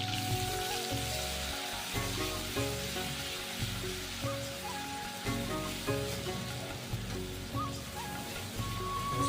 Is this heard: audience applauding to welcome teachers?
no